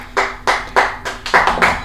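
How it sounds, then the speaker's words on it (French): Several sharp hand claps, about seven, sound close by in an uneven rhythm, cheering the winner of a quiz contest. "Ça mérite quand même des acclamations"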